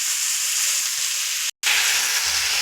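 Potatoes, eggplant and drumstick pieces sautéing in a pan, a loud steady sizzle close up with a brief cut partway through, then the frying resumes with faint stirring.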